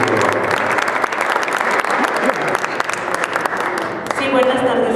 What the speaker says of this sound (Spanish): Muchas felicidades y un aplauso, desde luego.